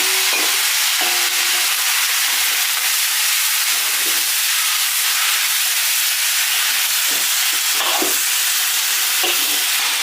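Beef pieces go into hot oil with sugar in a wok and fry with a loud, steady sizzle and hiss, broken by faint scraping of stirring.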